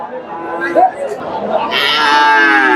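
Cattle low at a busy Bengali livestock market where Friesian and Sahiwal bulls are traded, the moos coming amid crowd chatter and people talking, with a steady murmur of market noise behind.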